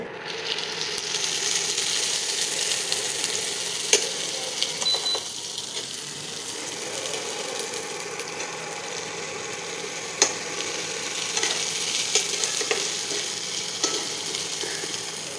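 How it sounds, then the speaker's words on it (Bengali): Onions fry in hot oil for a paneer curry, giving a continuous close sizzle with scattered sharp pops and utensil clicks from stirring, with no talk over it. "কিছুটা প্রথমে আমি তেল গরম করে নিয়েছি পনিরের জন্য, এরপর আমি পেঁয়াজ দেবো ভাজার জন্য।"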